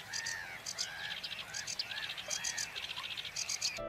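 Tree frogs and reed warblers call at a high mountain lake, with repeated rhythmic croaking trills and chirps over a soft ambient bed, fairly close and steady, with a faint voice in the background.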